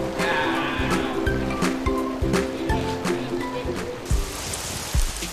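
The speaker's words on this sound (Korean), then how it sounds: "하늘은 우리를 시험에 들게 하려는 듯 거센 비를 뿌려댑니다" Heavy rain pours on a trail up Mount Kinabalu in East Malaysia, a dense close hiss of drops hitting surfaces with scattered louder splashes and patters throughout.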